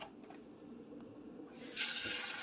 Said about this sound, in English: I'm going to fill it up with some cold water.